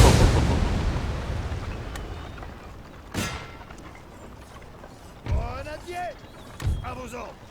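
Cannon artillery fire in the Napoleon: Total War video game: one heavy opening blast with a long decaying rumble, then three shorter, sharper booms spread across the clip, with someone talking over the later shots.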